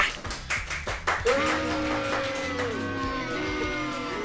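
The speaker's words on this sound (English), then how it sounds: "Even the in-studio audience is clapping about that." A studio audience on a comedy show claps in a short run of sharp, rhythmic hand claps near the start, followed by a sustained tonal sound with voices over a low backdrop.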